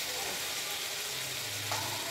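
Tomatoes and potatoes for poha cook uncovered in a pan, giving a steady close sizzle with a soft stir partway through.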